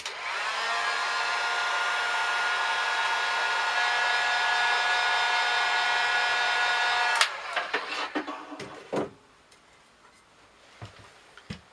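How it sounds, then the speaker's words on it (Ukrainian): A hair dryer blows steadily and loudly for about seven seconds, heat-shrinking a capsule onto the neck of a bottle of homemade red grape wine, then switches off, leaving a few faint handling clicks and taps. "за допомогою фена запаюємо пляшку з домашнім вином"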